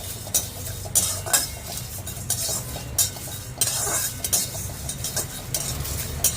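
Bay leaf, dried chili, cinnamon, cardamom, cumin and coriander roast in a dry pan for ghugni masala, stirred with rhythmic metal scrapes and clinks about once a second over a faint crackle, close and without talk.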